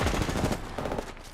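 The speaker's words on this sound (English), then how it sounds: "Being shot at." Rapid automatic gunfire in a video game firefight, a loud, steady stream of close shots that fills the whole brief moment.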